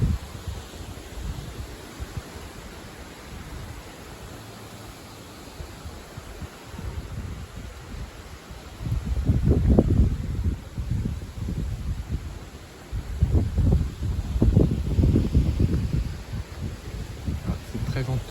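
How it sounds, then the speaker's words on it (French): Strong southwest wind at about 60 km/h gusting through trees in mid-June, heard as rustling, buffeting surges that swell and fade, loud and close with microphone rumble. "C'est très venteux pour la période."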